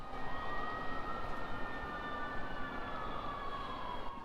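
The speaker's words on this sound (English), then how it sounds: "I bet you that siren, emergency vehicles, I bet you is at least 40 times a day" A wailing emergency vehicle siren rises and falls steadily over constant city traffic rumble in New Orleans, sounding some distance away and continuing throughout.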